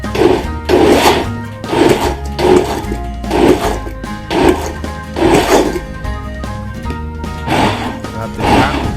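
A blender whirs through a lamb shank curry blend in loud, regular pulses, about ten short bursts in a row, close and with no talk.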